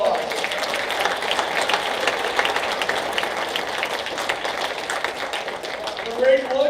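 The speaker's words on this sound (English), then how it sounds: "Let's give Nate a round of applause." A crowd at a high school football booster banquet gives a sustained round of applause, a thick, even patter of many hands, with a voice briefly sounding near the end.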